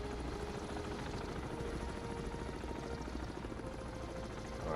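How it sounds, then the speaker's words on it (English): Helicopter in the naval video game Dot Mo hovering to land on a ship deck, a steady, fairly faint rotor and engine drone that runs unbroken, with no voices. "let's land this helicopter here"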